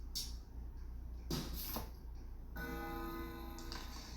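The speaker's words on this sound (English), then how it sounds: "Clock makes noise." A clock in a video game makes a light, rhythmic mechanical ticking over a steady low hum, with a few sharp clicks and a brighter chiming tone near the end.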